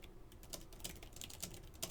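Quiet, steady typing on a computer keyboard while entering Cisco router commands, a run of light, close keystrokes with no talk.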